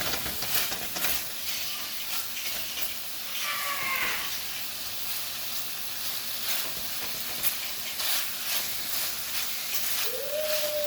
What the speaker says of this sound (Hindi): बीफ सोटे हो रहा है